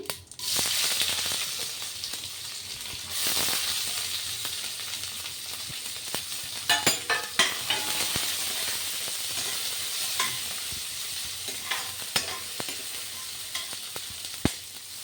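Onion added to hot oil with cumin seeds sizzles and fries in a steady, loud hiss that runs the whole time, with occasional stirring clatters and crackles on top.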